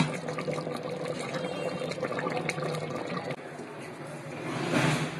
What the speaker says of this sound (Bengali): এখন পাতিলে ঢেলে পানি দিয়ে দিব।